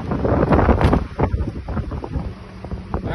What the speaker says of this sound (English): It's a little windy, I apologize about that.